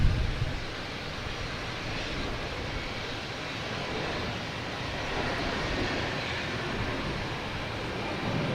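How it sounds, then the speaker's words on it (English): A jet airliner roars steadily during takeoff at Boston Logan Airport, a broad, sustained rumble heard from a distance with no voices over it. "Another rocky takeoff right there."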